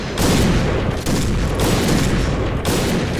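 Bursts of gunfire in the Point Blank shooter game, three loud sustained volleys of rapid shots separated by short gaps.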